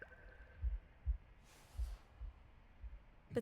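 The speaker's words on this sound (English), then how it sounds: "a deafening heartbeat." A heartbeat sound in The Last Campfire, with deep, thudding low beats in an even rhythm, about five pulses, fairly quiet, with a brief airy swell in the middle.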